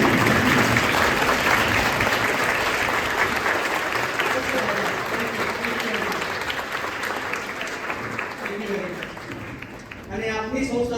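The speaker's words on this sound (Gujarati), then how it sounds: "તમે તાળીઓ આપી" An audience at a Snehmilan Samaaroh gathering gives a standing ovation, dense sustained clapping that slowly thins, with a voice starting to speak over it at the end.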